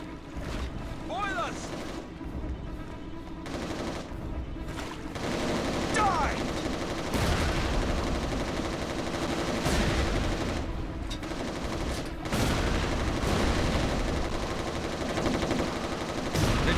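Gunfire in the video game Resistance: Retribution, set in Rotterdam: bursts of weapon fire and shots over a dense, loud game soundscape, continuous throughout with brief sharper cracks.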